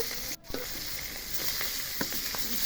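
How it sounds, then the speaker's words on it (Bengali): Rohu fish frying in oil on a stove, a steady close sizzle with soft crackles and small pops throughout, no voices. "মাছগুলো মাখিয়ে চুলায় দিয়ে মাছগুলো ভেজে নেবে"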